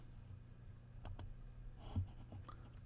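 A few soft, isolated keystrokes on a computer keyboard, faint and sparse over a quiet low room hum, with no talking.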